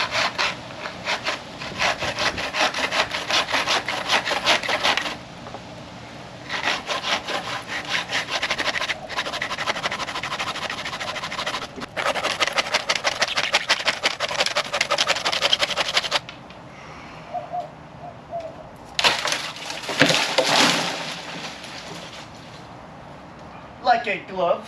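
A manual hand saw cuts through wood while removing a dead tree, with long runs of steady rasping back-and-forth strokes broken by short pauses and a brief burst of different scraping near the end.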